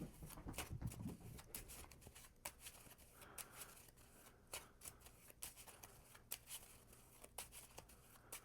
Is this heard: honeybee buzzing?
no